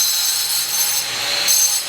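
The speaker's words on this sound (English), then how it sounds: "they use that grinder. That's their main tool." Construction workers' grinder at a house build in Da Nang, Vietnam, a loud, steady high-pitched whine that holds continuously from nearby with slight surges.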